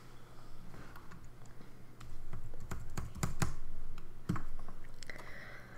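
Keystrokes on a computer keyboard as a password is typed, a run of close, crisp clicks in uneven bursts over a steady low hum, with no voices.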